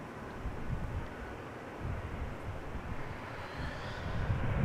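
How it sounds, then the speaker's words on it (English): A KLM Boeing 737-800 airliner arriving at Amsterdam Schiphol from Edinburgh on a summer evening, heard as a steady broadband jet roar that swells slightly toward the end, mixed with gusty wind noise and no talking. "737-800 arriving. This one arriving from Edinburgh."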